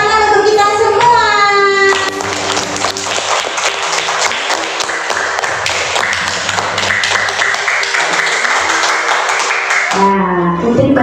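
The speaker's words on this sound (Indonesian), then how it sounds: "Beri tepuk tangan untuk kita semua" Classroom of children claps together for about eight seconds, a loud, dense burst of applause close by, with a teacher's and children's voices before and after.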